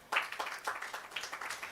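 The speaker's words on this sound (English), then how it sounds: "A warm applause for her." Conference audience clapping at the Women Wealth & Real Estate Conference, a brief burst of scattered applause that swells quickly and holds at moderate volume, with no speech over it.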